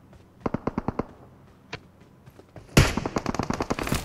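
Gunfire in the mobile battle royale game PUBG Mobile: a rapid burst of five or six sharp shots, a lone shot, then a louder dense volley of close automatic fire near the end, with no talk over it.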